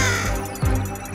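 A cartoon robot crow caws in a brief, loud burst amid an action chase, over a busy soundtrack of music and effects.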